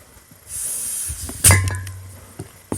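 Fermenting coffee mix gives off a steady soft hissing fizz that starts about half a second in and carries on, with a sharper burst of spray-like hiss near the middle and a few small knocks.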